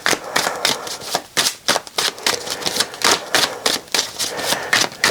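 Tarot cards being shuffled by hand, a dense run of quick crisp riffling clicks and flutters, close and fairly loud, with no talking.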